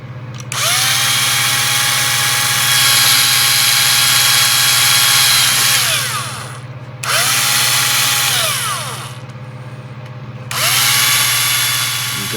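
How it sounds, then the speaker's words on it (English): Power drill boring a hole in a plastic part of an AMT/ERTL Star Trek Next Generation U.S.S. Enterprise model kit, three loud sustained whirring bursts separated by brief pauses, with a steady low hum beneath. "The first thing we got to do is we got to drill a hole in here."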